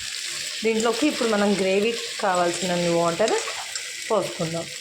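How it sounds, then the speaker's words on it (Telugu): Chicken curry sizzling in oil in a pan, a constant hissing sizzle under a voice speaking nearly the whole time. "ఆ సిజ్లింగ్ సౌండ్ వినిపిస్తున్నప్పుడు ఒకసారి మళ్ళీ కర్రీ అంతా కలుపుకొని"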